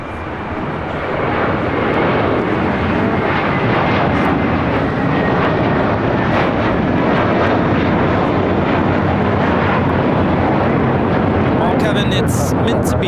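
A JetBlue Airways Airbus A321 takes off, its engines building to a loud, sustained roar that rises in the first seconds and holds, with some voices mixed in.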